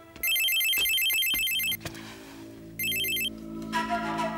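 A home landline telephone rings with an electronic warbling tone, two ringing bursts separated by a short gap, loud and close.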